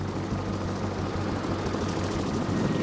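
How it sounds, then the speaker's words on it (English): A helicopter comes down onto a football field in Palma, Mozambique, its rotor and engine producing a continuous loud, low, throbbing roar close by, with no voices. "suddenly the helicopter starts getting closer and closer to the ground."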